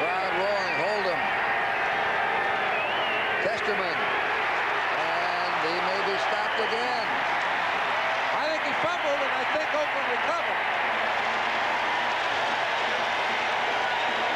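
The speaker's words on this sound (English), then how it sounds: "Crowd roaring" Stadium crowd at a 1978 Seahawks vs. Raiders NFL football game, a dense steady roar running the whole stretch beneath continuous play-by-play commentary.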